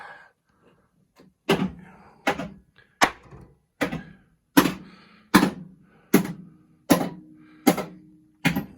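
Pinball machine solenoid coils firing one after another during a coil test on a WPC95 power driver board, nine sharp mechanical thunks spaced evenly under a second apart, close and loud in a quiet room.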